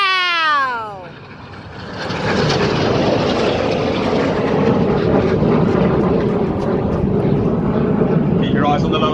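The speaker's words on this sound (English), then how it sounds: "Keep your eyes on the low aircraft as they pull hard towards each other, pulling 6G to come back to cross once again a show centre" RAF Red Arrows jets at an air show, a loud roaring pass that builds and holds as the aircraft sweep by, with a commentator talking over the engine noise.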